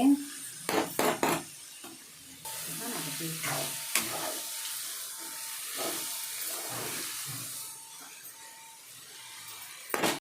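A tempering of lentils and ponnaganti leaves fries in a pan with a moderate, steady sizzle and steam hiss. A few sharp utensil knocks sound near the start and again at the end.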